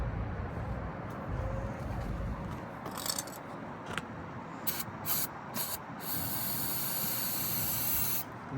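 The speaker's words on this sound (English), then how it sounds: "spray it with some brake clean." Several short bursts of brake cleaner aerosol spray hiss close by, followed by a longer sustained spray, over a low rumbling background.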